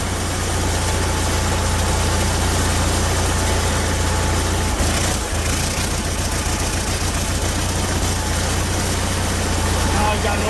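A vintage RV engine idles during a cold winter start-up, a loud, steady low rumble with constant vibration throughout and a brief dip midway.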